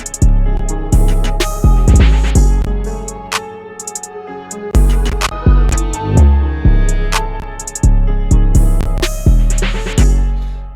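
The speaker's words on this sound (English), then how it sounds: "This is basically the full beat right over here." A full hip-hop beat plays loud and alone: punchy drums and booming 808 bass under layered melodies and chopped vocal samples, with a brief drop near the middle before the groove returns.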